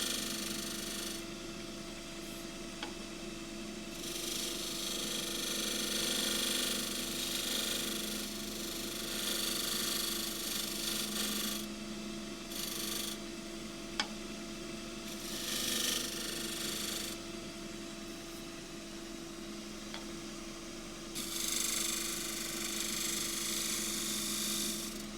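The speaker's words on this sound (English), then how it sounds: "I'll just shear scrape it with the bevel, or the bevel side." A woodturning lathe hums steadily while a tool shear-scrapes punky box elder with the bevel side, a continuous soft hiss of scraping that rises and falls in short passes over the motor drone.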